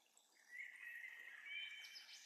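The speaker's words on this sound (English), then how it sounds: "the singing of the birds" Birdsong rings out in a calm natural setting during a guided relaxation, a faint, thin series of chirps and warbling phrases rising and falling over two seconds, with soft background ambience and no voices.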